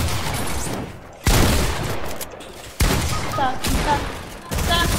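Rapid bursts of gunfire from Fortnite gameplay, three heavy salvos with short gaps between them, each sustained and loud, with frantic talk from players layered over the shooting.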